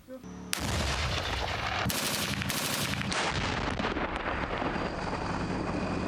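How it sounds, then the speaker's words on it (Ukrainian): A tank cannon's heavy blast followed by sustained, rapid PKT machine-gun fire outdoors during firing practice, loud and continuous with wind buffeting the microphone. "заняття зі стрільби, а саме стрільба з гармати і стрільба з ПКТ"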